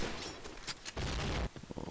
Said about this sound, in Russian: перестрелка, хедшот против Аквы, стрельба от хитача